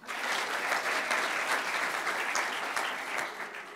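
A large audience at the official opening session of an EU youth conference claps continuously as participating organisations are announced: a dense, even wash of applause that holds steady throughout at a moderate level.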